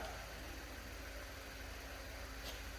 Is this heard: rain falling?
no